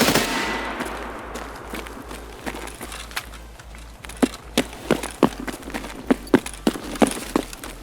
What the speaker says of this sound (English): Now shoot the MPX.